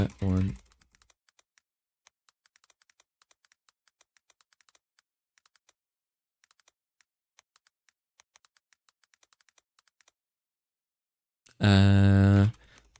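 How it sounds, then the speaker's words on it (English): Rapid clicking of computer keyboard keys, steady and close, with brief pauses between bursts; a voice speaks briefly at the start and again at the end. "I like how you guys can hear the typing sounds"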